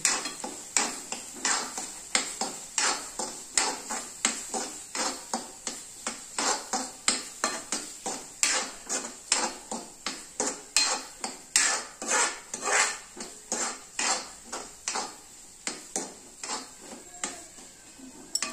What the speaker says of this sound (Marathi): आपण त्यामध्ये मटाराचं टाकून देऊया आणि मस्त छान फ्राय करून घेऊ